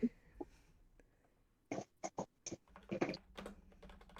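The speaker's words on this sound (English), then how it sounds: "I was typing." Typing on a computer keyboard heard up close: several sharp clicks and short bursts of keystrokes in an uneven rhythm, quiet and separated by brief pauses.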